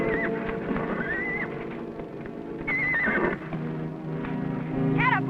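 A stallion neighs and whinnies several times in rising, wavering calls over a steady backdrop of hooves clip-clopping and a low murmur, with the loudest whinny coming near the end.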